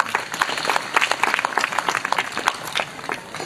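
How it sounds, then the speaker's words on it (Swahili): An audience applauds Wallace Karia at a football-related gathering with a government deputy minister, the dense clapping rising and falling in bursts for a few seconds at close range with no voices over it. "Makofi kwa Wallace Karia."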